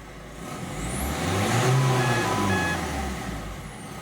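A Ford Focus 1.6 TDCi diesel engine, one with a turbo that cuts out, runs just after starting. A steady low rumble swells slightly mid-way, and a few short high electronic beeps sound near the end.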